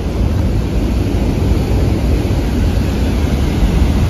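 Athirapally waterfall in Kerala, a loud, dense, unbroken roar of falling water, heavy and constant with no voices over it.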